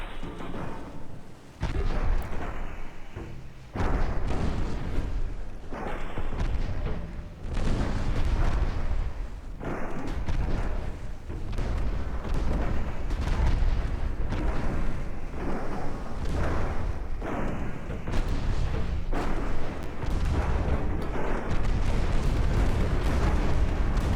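Heavy 40mm guns pound a battleship in the naval video game DIP v2, making a long run of dense, rumbling booms and blasts that overlap into a loud, continuous barrage.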